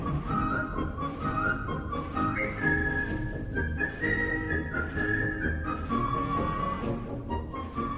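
A march plays with a clear whistled melody carried on top, rising and falling steadily over the band at even loudness.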